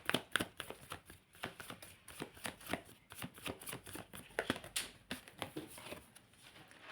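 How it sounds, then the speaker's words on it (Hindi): Tarot cards being shuffled by hand, a quick run of crisp riffling flutters and soft slaps that repeat steadily for several seconds, close and fairly quiet, with no talking. "my last shuffle"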